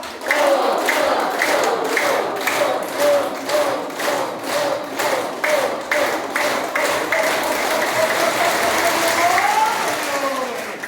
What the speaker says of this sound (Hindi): पहली ताली है ओम के नाम पे